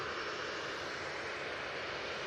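A jet airliner roars steadily at Manchester Airport, a continuous broad engine rumble with a hissing upper band, loud and close with no talk.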